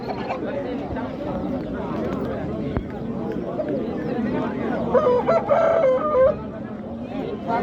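White chickens and Jersey Giant chicks at a poultry market in G‘ijduvon cluck and call amid steady crowd chatter, with a clearer burst of bird calls midway and people talking over it.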